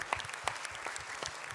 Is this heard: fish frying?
no